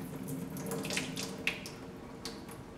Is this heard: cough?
no